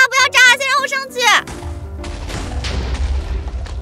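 TNT exploding in the Minecraft video game: a deep rumbling boom bursts out after a high-pitched excited voice chatters, then the blast's low roar rolls on and fades under the game sounds.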